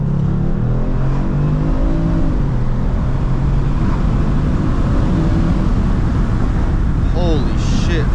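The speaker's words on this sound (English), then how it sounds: "like if I open the windows and full throttle," A Kia Stinger GT's loud engine roars under full-throttle acceleration with the windows open, its pitch climbing and shifting through gears, with heavy wind rush and a voice briefly heard inside the cabin.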